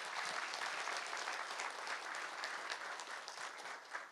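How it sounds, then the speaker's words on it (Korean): An audience at a Seoul political meeting in a large conference hall claps together in a sustained, even round of applause that is fairly faint and tapers slightly near the end. "다시 한번 큰 박수 부탁드리겠습니다."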